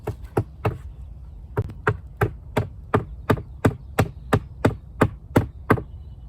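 Hammer strikes in a garden while a new potato growing area is being built, a series of sharp, close knocks in irregular bursts, some quick doubles, with pauses between groups.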